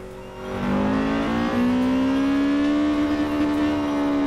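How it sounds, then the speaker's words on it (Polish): Honda Civic VTEC engine in the racing game Forza Horizon 4 revs steadily upward from low speed, a rising harmonic engine tone that swells in quickly and holds loud and close for several seconds with no talk. "Honda Civic posiada silnik VTEC i ten VTEC przy pewnych obrotach faktycznie go słychać"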